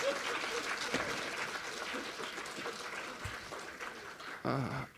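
Steady applause from an audience at a medical lecture fills the room, continuous clapping that swells briefly near the end before fading.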